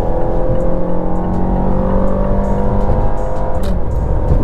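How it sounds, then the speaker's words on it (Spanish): A Mazda 3 sedan with a 2.5-litre engine accelerates hard from a standstill, its engine note loud and close with rising harmonic tones over steady road roar, with no talking. "Y ahorita puedes percibir cómo el coche tiene una aceleración maravillosa."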